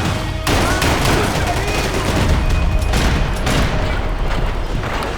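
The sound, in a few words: gunfire in the video game Max Payne 3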